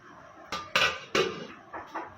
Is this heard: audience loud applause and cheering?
no